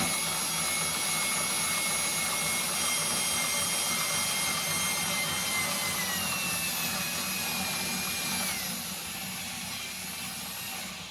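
A Talbot Lago worm-gear scissor jack lowers steadily to its resting position, sped up, giving a continuous whirring, grinding mechanical drone with shifting tones, close and even in level, without speech.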